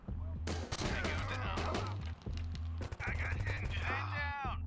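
Shotgun blasts in the Door Kickers video game fire in a rapid, loud sequence over a steady game backdrop, while someone talks over the shooting.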